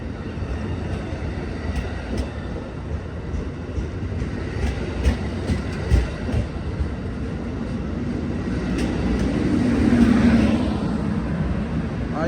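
An Amtrak Coast Starlight train passes the Oakland Coliseum station with a continuous low rumble and clatter of wheels on rails that builds toward the end. A horn-like tone rises briefly near the close.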